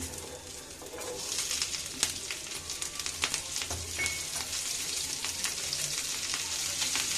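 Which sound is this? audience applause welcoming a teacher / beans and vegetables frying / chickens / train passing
beans and vegetables frying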